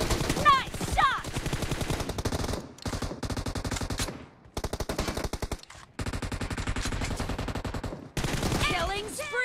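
Rapid automatic gunfire in the PUBG Mobile video game, loud bursts of machine-gun fire broken by short pauses, with whooshing effects near the start and end.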